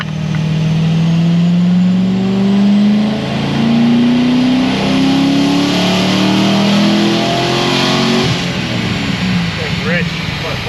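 A high-mileage LS7 V8 on a dyno revs hard, climbing in pitch for several seconds as a loud sustained engine roar, then backing off near the end with a fading rumble.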